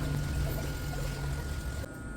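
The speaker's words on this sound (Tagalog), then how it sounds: "lalagyan po natin ng tubig" Water pours steadily into a cooking pot of food being softened for a meal. The pour is close and fairly quiet, a continuous splashing stream for about two seconds with no talking.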